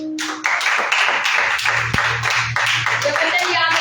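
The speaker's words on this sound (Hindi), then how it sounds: "अपने लिए जोरदार तालियां बजाओ" Brisk clapping from a small church congregation at a Sunday service, a steady patter of hand claps with a few voices murmuring underneath.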